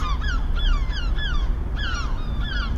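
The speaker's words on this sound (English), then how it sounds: "We're nowhere near the sea, but there are gulls." Gulls call repeatedly in a rapid series of harsh, descending squawks, moderately close, over a steady low rumble of engine or water noise.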